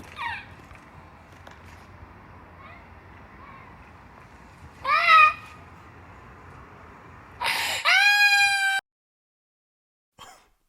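A child screams and wails in a few sharp, high-pitched outbursts between quieter moments, the longest cry near the end, loud and close.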